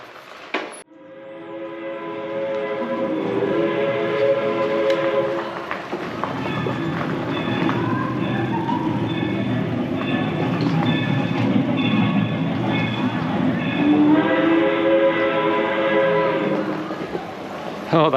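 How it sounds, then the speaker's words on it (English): A train rumbles loud and steady through the Adra Tunnel on the Kettle Valley Rail Trail, with sustained horn-like tones rising and falling over a continuous low roar that lasts throughout. "do you hear the sound of the train?"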